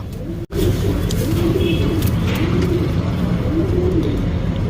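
Pigeons coo in repeated low, rolling calls over a steady background rumble, close and clear, with one brief dropout near the start.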